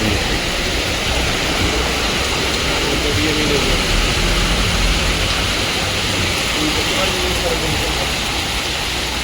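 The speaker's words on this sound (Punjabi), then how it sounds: "ਬਹੁਤ ਤੇਜ਼ ਮੀਂਹ ਪੈ ਗਿਆ ਭਾਈ ਬਹੁਤ ਜ਼ੋਰ ਦਾ ਮੀਂਹ ਪਿਆ" Very heavy rain pours down in a loud, dense, continuous roar like a waterfall, steady for the whole stretch with nothing else standing out.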